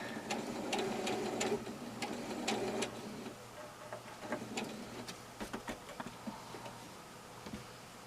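A sewing machine stitching a patch pocket, running in a brisk mechanical whir for a few seconds, then stopping to leave scattered ticks and clicks of the needle and fabric handling, close and quiet.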